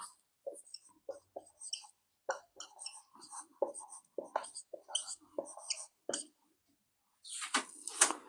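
Marker or chalk strokes on a board during a Hindi modern Indian history lecture, short scratchy squeaks in quick irregular bursts, close and fairly quiet, with soft talk between strokes.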